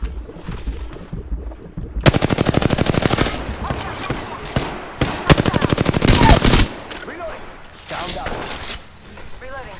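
Gunfire in the Apex Legends video game: two long bursts of rapid automatic fire plus scattered single shots, loud and close, with voices talking over parts of the action.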